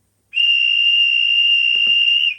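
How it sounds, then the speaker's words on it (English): A guard's dispatch whistle from the sound decoder of a Hornby class 50 model locomotive in civil engineers livery: one long, steady, piercing blast, loud and close, with a couple of faint knocks partway through. "that sounds like guard's whistle or dispatch whistle"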